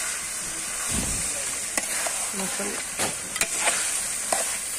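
Meat sizzles and is stirred in a hot pan, slow-cooked until browned for a chana dal dish, with steady frying hiss and several sharp scraping clinks of the spoon against the pan.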